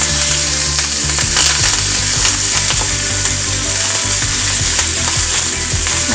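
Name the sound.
garlic and curry leaves frying in oil, being stirred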